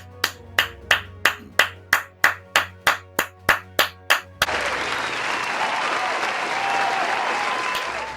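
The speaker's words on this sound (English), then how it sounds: "Let's take the time to give Bud Crawford a big round of applause, fight fans" About a dozen loud, evenly spaced single claps ring out close by, then give way to a dense wash of crowd-style applause that holds steady to the end, with no talking over it.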